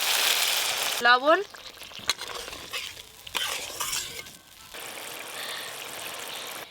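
Water goes into a pan of spice paste fried for a Bengali fish curry, and the sizzle flares and then settles into a softer bubbling hiss. A brief word is spoken over it, with light stirring clinks.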